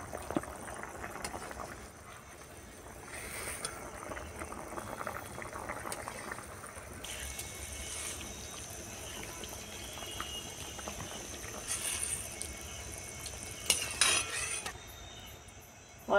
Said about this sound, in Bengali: আমার ম্যাকারোনি পাস্তা সিদ্ধ হয়ে গিয়েছে।